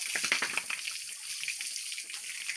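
Water runs steadily from a tap at a piggery, used for bathing pigs, with a bright, hissing splash, fairly faint and continuous, no voices.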